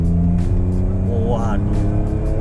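A BMW E39 528i wagon accelerates hard, its engine droning loud and steady from inside the car with a rising whine, while occupants talk and exclaim over it.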